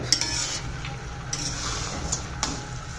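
Basanti pulao rice being stirred in a pot with a spoon, a soft scraping swish over a quiet simmer, punctuated by a few light clicks of the utensil against the pot.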